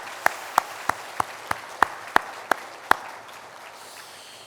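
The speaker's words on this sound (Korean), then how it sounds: "격려의 박수를 한번 했으면 좋겠습니다" A church congregation claps in appreciation, about nine sharp, evenly spaced claps in a steady rhythm over a quiet background.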